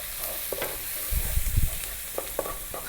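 Ground spice powders (coriander, chili, turmeric, cumin) fry in a pan while being stirred constantly, giving a soft sizzle with scraping strokes and a louder stretch of clatter midway.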